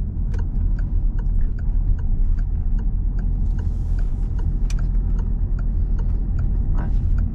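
A car's turn signal ticks steadily during a driving lesson on a roundabout. The sharp, evenly spaced clicks keep a regular rhythm over the low, constant rumble of the engine and the road inside the cabin.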